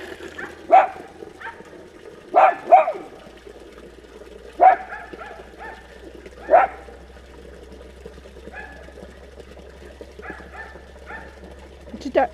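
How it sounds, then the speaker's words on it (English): A dog barks a few times in short, spaced bursts, fairly close, with quiet stretches between and a low background hum. "What you barking at, crazy dog?"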